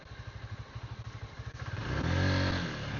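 A Suzuki V-Strom 160 motorcycle rides along a narrow path, its engine first chugging with a steady pulsing beat, then swelling into a louder, sustained revving drone close by.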